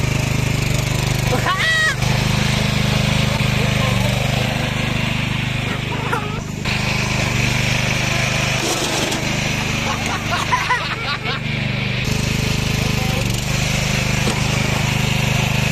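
A mini tractor's small engine revs and labours through wheelies, a steady rough drone with surging throttle, heard close and loud while people talk over it.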